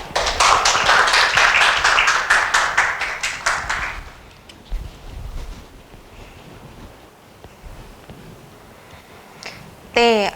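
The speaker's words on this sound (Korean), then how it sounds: "따뜻한 박수로 환영해 주시기 바랍니다." Applause from an audience at a graduate school success-story lecture, a burst of clapping that dies away after about four seconds into quiet room noise, with a few faint taps and a brief sharp sound at the end.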